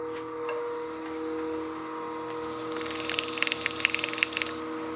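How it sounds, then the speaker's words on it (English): Fine 400-grit sandpaper rubbing a turned wooden German smoker spinning on a lathe at low speed, a steady hiss over the motor's hum that grows brighter and scratchier midway, with small irregular ticks near the end. "let's go back to our sandpaper now and just blend between the area we just turned and what we had already sanded"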